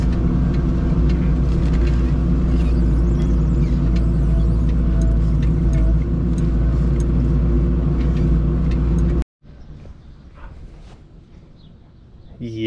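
Truck engine idling steadily at close range, a loud low rumble with harmonic drone that cuts off abruptly near the end, followed by quieter ambient outdoor sound.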